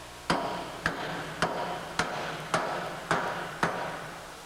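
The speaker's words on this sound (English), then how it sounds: "you'll hear a different tone of the hammer as he's striking it" Seven evenly spaced hammer blows drive a pump wear ring into a back plate, each a sharp metallic knock about half a second apart, close and loud with a short ringing decay and no talking.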